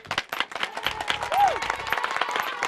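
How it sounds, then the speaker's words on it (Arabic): Audience applause at a hidden-camera prank show: steady clapping from a crowd fills the whole moment, with a host's voice rising over it briefly. "بالله لولا تصفيقة أخرى عليه."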